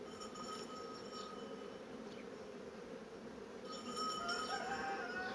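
Honey bees buzz steadily across a hive frame during a spring expansion inspection after overwintering, a continuous insect drone that swells slightly louder near the end, with faint bird calls and no speech.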